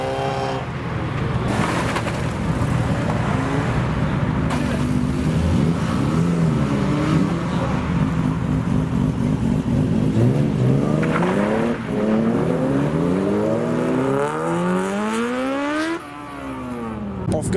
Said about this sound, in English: Off goes the Mugen Type R and the D46.